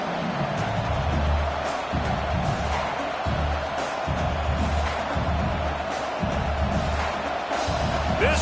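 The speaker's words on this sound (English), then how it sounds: "This crowd bringing the energy and noise early." A stadium crowd at an LSU vs Georgia college football game in NCAA 26 keeps up a dense, steady roar of cheering that stays loud and unbroken throughout.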